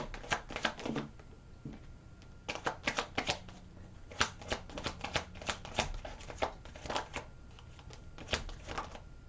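Tarot cards are shuffled close by, quiet papery riffles and flicks in irregular bursts with short pauses between them.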